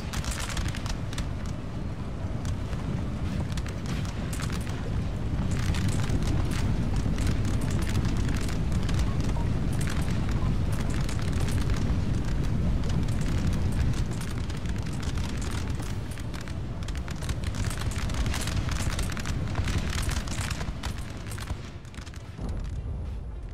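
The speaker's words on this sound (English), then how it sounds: "This unit here is shooting at that one over there" Massed musket fire from infantry units exchanging volleys in Napoleon: Total War, a dense, continuous crackle of shots with deep rumbling booms beneath, steady and loud throughout with no voices.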